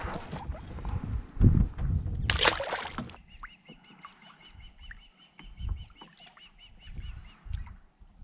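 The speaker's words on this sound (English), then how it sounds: "the bird making all the racket was actually a bald eagle" A bald eagle calls near a lake during a fishing outing. Repeated high, thin chattering calls ring out over background noise and water sounds, continuing in a rapid series for several seconds.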